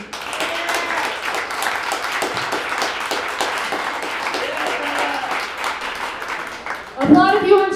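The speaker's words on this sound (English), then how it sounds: "we're gonna do this by round of applause, folks" An audience applauds at an Easter comedy game show in a brewery, sustained dense clapping for several seconds that fades before a voice speaks at the end.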